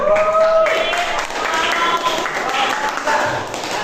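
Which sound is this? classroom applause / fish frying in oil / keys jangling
classroom applause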